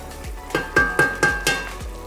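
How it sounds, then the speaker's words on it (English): Flour is stirred into melted butter in a hot pot for an eggless mac and cheese roux, with about six rhythmic scraping strokes under a faint sizzle and no speech. "Now we're gonna add some flour. I'm just gonna stir that up."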